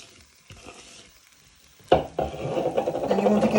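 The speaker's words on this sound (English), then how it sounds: "start frying your leeks and garlic to make your leek and potato soup" Leeks and garlic drop into a hot pan for soup, bursting into a loud sizzle after quieter clinks and shuffles, then settling into a steady close frying hiss.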